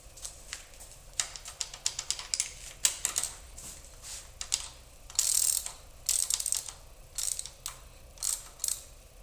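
A hand ratchet clicks in quick irregular bursts while tightening bolts on big block engine heads, close and crisp, pausing briefly between strokes.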